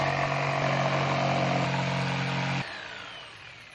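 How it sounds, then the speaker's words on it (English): A jigsaw cuts a raw walnut hardwood slab with a loud, steady buzzing drone close by, then the motor cuts out and winds down to a faint whir near the end. "When cutting with a jigsaw on hardwood, you gotta be very patient, especially with the curves."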